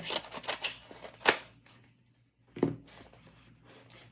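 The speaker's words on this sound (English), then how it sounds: "Find my scissors. Get the sides cut here." Scissors cut through the sides of a heavily packed cardboard shipping box holding graded Yu-Gi-Oh cards: a quick run of sharp snips and rustles, a pause, then one more crisp cut, close and fairly quiet.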